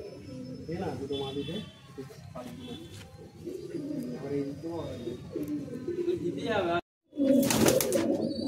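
Pigeons coo continuously in a loft in Bagnan near Kolkata, with overlapping low rolling calls close by throughout, and a brief silent gap near the end before the cooing resumes louder; a voice seems to talk faintly underneath.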